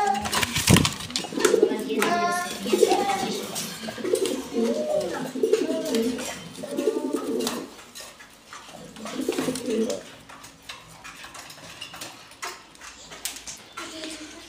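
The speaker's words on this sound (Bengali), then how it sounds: "এখানে একজোড়া কবুতর দেখতে পারতেছেন, এগুলো ড্রাগন কবুতর" A pair of dragon pigeons at a fancy pigeon seller's coo in soft, repeated throaty rolls, close and clear, with quieter animal sounds and faint background noise between the calls.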